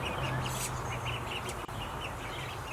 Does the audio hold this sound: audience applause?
no